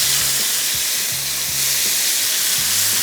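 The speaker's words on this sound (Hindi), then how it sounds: "तो चिकन को थोड़ा सा किया फ्राई।" Chicken pieces fry in a pan for a stir-fried chili garlic chicken, giving a steady loud sizzle with a broad hiss and several brief clinks of utensils against the pan.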